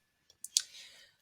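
Quick mouse clicks, two or three sharp close taps, while selecting a shape in the Figma design app, followed by a soft brief rustle.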